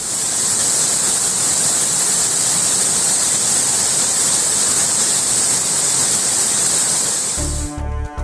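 Kumbakkarai waterfall in flood after heavy rain, a loud, steady roar of rushing water that stays constant and close for most of the clip before cutting to another sound near the end.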